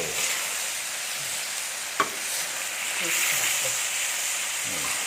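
Eggplant and minced pork sizzle steadily in a hot pan as they are stir-fried, with a continuous loud hiss and occasional soft clicks of a spatula against the pan.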